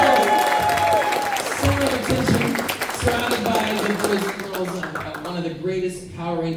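An audience at a Power Rangers Time Force reunion convention panel in Atlanta applauds and cheers, with sustained clapping and crowd noise mixed with voices, loud and fading slightly toward the end.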